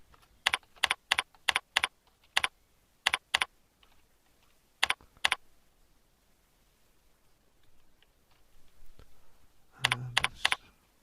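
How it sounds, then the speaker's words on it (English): Keys clack on a computer keyboard in short bursts of a few quick strokes each, separated by pauses, with a longer quiet gap in the middle and a final cluster of keystrokes at the end. "let me just type something in here."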